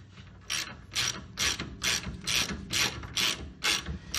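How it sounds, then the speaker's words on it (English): A ratchet wrench works on the brakes of a 1965 Chevy II, giving about nine crisp, evenly spaced bursts of clicking, close and fairly quiet. "Now I can switch over to the ratchet wrench"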